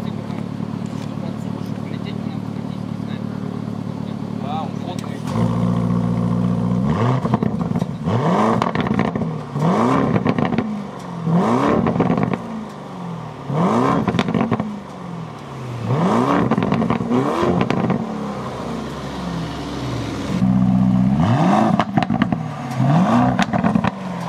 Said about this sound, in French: je vais mettre des coups de gaz dans le vide pour que vous puissiez entendre du coup le son de ce V8